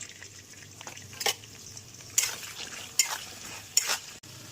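Pointed gourd (potol) pieces frying in hot oil with turmeric and salt, giving a steady sizzle broken by four sharp bursts of stirring and scraping in the pan, with no talk.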